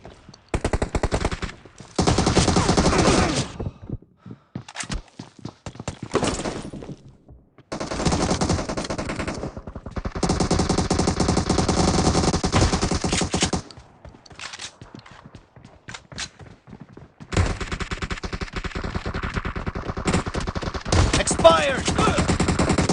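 Bursts of rapid gunfire in a shotgun team deathmatch video game come in loud, dense stretches of several seconds each, with short quiet gaps between volleys.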